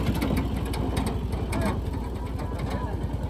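Large tractor engine running nearby, a steady rapid low chugging pulse that carries on throughout, with faint voices in the background.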